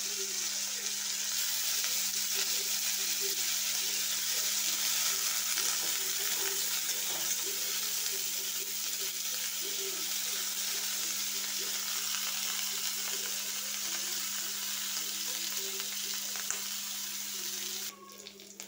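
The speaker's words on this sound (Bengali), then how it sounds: "এরপরে তেলের মধ্যে দিয়ে দিচ্ছি ফুলকপি।" Parboiled cauliflower pieces fry in hot oil with a steady, even sizzle that runs continuously, fairly quiet, with faint scraping now and then and no talking.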